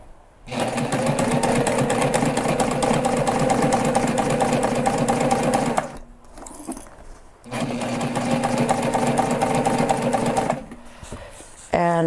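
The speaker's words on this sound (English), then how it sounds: "we're just gonna sew at about 1/8 of an inch just to get it tacked down" Sewing machine stitching close to the edge to tack down thick foam on a backpack, two long steady runs of rapid mechanical whirring separated by a brief pause, loud and close.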